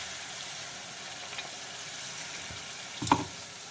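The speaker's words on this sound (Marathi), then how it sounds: "आणि ग्रेव्ही छानपैकी आपण फ्राय करणार आहोत" Rajma gravy fries quietly in a pan, a soft steady sizzle with a sharp clatter of a utensil near the end.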